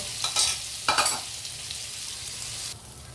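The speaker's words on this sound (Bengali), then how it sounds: "প্যানে বাটার দিয়ে দিব, বিফটা ছেড়ে একটু ভেজে নেব।" Cornflour-coated beef fries in butter in a pan, a steady close sizzle broken by a few bursts of louder spattering as it is stirred.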